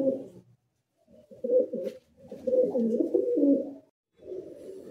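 Soft, low coos from Madrasi pigeons in several throaty bursts, close by in a loft, with short pauses between phrases.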